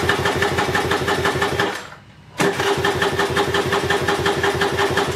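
Chinese KXD 125 dirt bike engine running loud and close with a steady rapid putter, cutting out briefly around the middle before firing again and idling on, on its first start.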